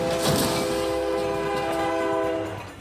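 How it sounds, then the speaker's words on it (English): A heavy freight train rumbles past in crash test footage, a loud continuous roar carrying a steady horn-like tone for nearly three seconds before it starts to fade. "This crash test footage shows how easily a freight train can demolish a passenger car."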